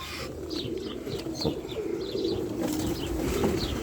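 Pigeons coo softly amid rustling and light flapping, with scattered chirps over a busy, noisy background.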